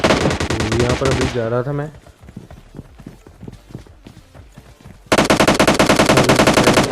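Rapid automatic gunfire rattles loudly in a shooter video game, breaks off for a stretch of running footsteps while someone talks, then bursts back in as a dense, close volley.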